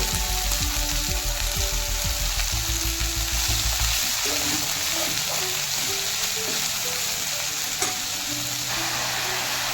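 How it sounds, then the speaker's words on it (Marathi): Spring onion greens with crushed garlic fry in hot oil, a loud continuous sizzle with stirring and scraping in a pan, close by and without speech. "तेलामध्ये थोडीशी 2 मिनिट परतून घ्यायचं आहे पात"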